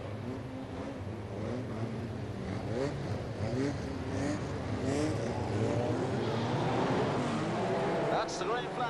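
Brisca F2 stock cars roaring away at the start of a feature race at Coventry in 1994, a dense, loud mass of revving engines from a full field, under steady commentary.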